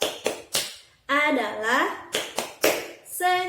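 Tepuk senyum, a clapping game led by a primary-school teacher: a few sharp hand claps set in a rhythm, alternating with her speaking voice, close and clear.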